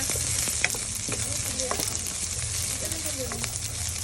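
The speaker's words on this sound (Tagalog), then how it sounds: "Magsisimula na tayo maggisa. Lagay na natin yung bawang at hintayin lang natin siya mag golden brown." Garlic and onion sauté in a hot pan for palabok, giving a steady close sizzle and crackle with a few light stirring scrapes and clicks.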